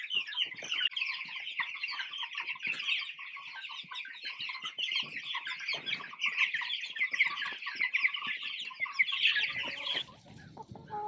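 A flock of chickens on a pastured poultry farm in Celina, Texas, clucks continuously, with many overlapping calls forming a steady, busy chatter close by and no talking.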